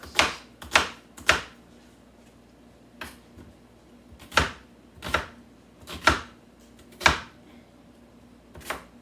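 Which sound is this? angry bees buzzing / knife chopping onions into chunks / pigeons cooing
knife chopping onions into chunks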